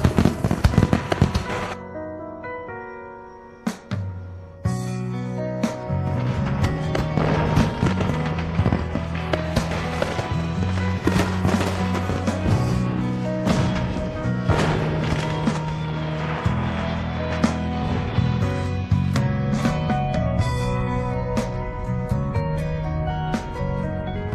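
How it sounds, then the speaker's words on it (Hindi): Firecrackers burst in rapid, sharp cracks and pops, one after another, over steady background music. "मैं तुम्हें फिर से पटाखों की आवाज सुनाती हूँ, सुनो।"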